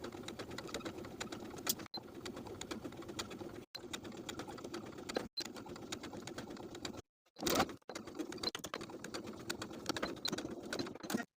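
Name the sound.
sewing machine sewing bias tape to a neckline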